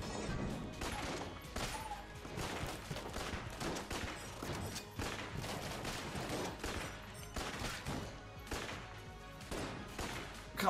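Rapid, continuous gunfire from Enter the Gungeon, with shots striking a table in a steady volley of crackling bursts and impacts, dense and fairly faint throughout.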